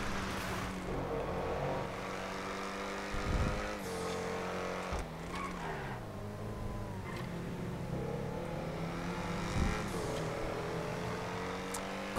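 A white car is driven in the video game GTA, its engine droning and shifting in pitch as it revs and accelerates, with a few sharp impact-like bursts over about twelve seconds.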